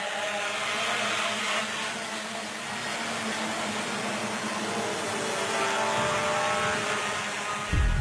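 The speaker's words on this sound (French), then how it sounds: "on va passer à un test de drone" Propellers of a drone built in Cameroon whirring through a test flight, a steady broadband buzz that stays fairly close and even throughout, with no voices.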